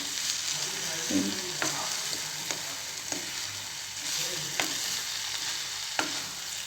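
Broccoli and scrambled egg frying in a pan, a steady close sizzle with regular spatula scrapes and taps every second or so, no voices over it.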